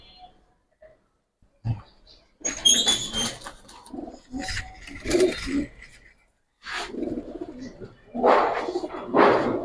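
Giribaz pigeons, a mix of males and females, coo close by in short, throaty bursts with pauses between them, alongside some wing flutters and rustling.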